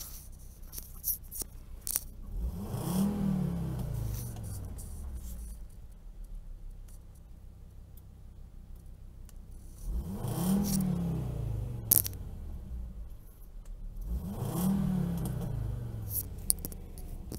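A VW Golf 4 (MK4) VR5 with its exhaust valve closed idles with a steady low rumble, then is revved in three separate blips that rise and fall back to idle, with light clicks and rattles nearby.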